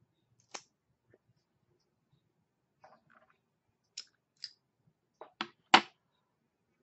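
Premium robusto cigar being clipped and then lit with a new Forge torch lighter: a sharp snip, quiet scattered clicks, then a quick run of crisp clicks and short hissing bursts from the torch near the end.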